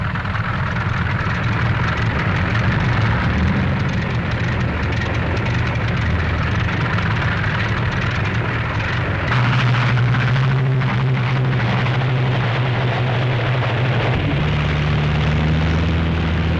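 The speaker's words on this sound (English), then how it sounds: "Six minutes after the first engine starts, the first squadron must begin the takeoff." Several P-47 Thunderbolt fighter engines run at an airfield before a squadron takeoff, a loud, continuous rumbling drone with propeller roar and shifting engine pitch as more engines join in.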